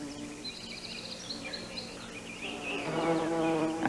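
Bumblebees buzzing around comfrey flowers, a close, wavering insect drone that swells and grows louder toward the end, with faint bird chirps behind.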